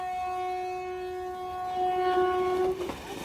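A passing train sounds a long, steady, loud horn blast, with rumbling wheels and clatter building beneath it before the horn cuts off.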